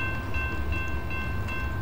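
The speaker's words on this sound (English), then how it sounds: "coming up the hill, we have M647, long distance train to Waycross, with YN2 329 leading" CSX M647, a long-distance freight bound for Waycross led by locomotive 329, climbs a hill with a steady, loud rumble and rolling rail noise, a thin tonal whine riding over it throughout.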